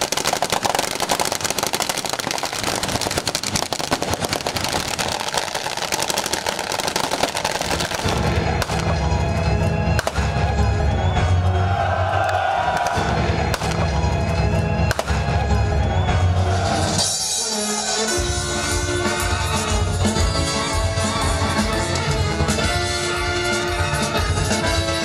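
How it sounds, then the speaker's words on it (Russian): Rapid crackling bursts of gunfire pile up densely with heavy cannon booms at an outdoor battle reenactment, loud and continuous, growing more intense partway through. "На Таманском полуострове вновь загрохотали пушки, а бойцы пошли в атаку."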